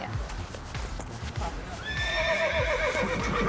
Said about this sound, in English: How about you take Zodiac, this big white horse right there?